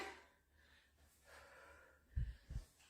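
Heavy breathing during a kettlebell swing workout, a person taking deep breaths in and out, ending with two sharp forceful exhales close to the microphone.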